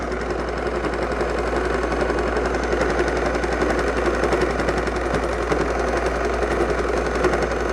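A sewing machine runs steadily, stitching around the edge of a fabric cover for a vaccination record booklet, a continuous close, loud mechanical whir and rapid needle chatter with no talking.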